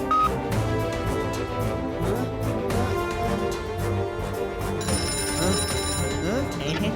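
A telephone rings in repeated electronic bursts over a layered music bed, steady and fairly loud, with a brighter tone entering near the end.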